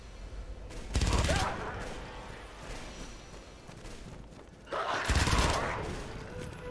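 Two loud bursts of rapid automatic gunfire from a player's weapon in the James Cameron's Avatar video game, each lasting about a second, separated by a quieter stretch of in-game ambience.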